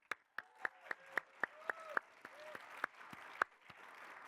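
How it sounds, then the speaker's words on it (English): A small audience welcomes entrepreneur panelists at a pitch competition with sparse, separate claps, a dozen or so sharp hand claps spaced unevenly over four seconds, fairly quiet, with faint tonal squeaks between them. "Please give a warm welcome and round of applause for our panelists."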